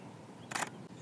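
A single crisp camera shutter click sounds close and short while photographing wildflowers in the English countryside, set against a quiet outdoor background.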